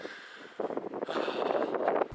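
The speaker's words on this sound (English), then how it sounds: "I think this wind is just blowing on that bad" Wind gusts rush and buffet against the microphone by Kylesku Bridge in Scotland in winter, rising from near quiet into a steady, roaring blow that grows louder toward the end.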